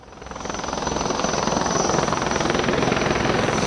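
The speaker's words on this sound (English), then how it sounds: "Choppers are hovering over the brigade headquarters here in Nowshera" Military helicopters hovering over an army brigade headquarters in Nowshera, a loud, steady rotor thrum with rapid rhythmic chopping that fills the whole stretch without pause.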